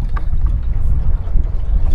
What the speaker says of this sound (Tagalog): Kaso nga lang sobrang lakas ng hangin.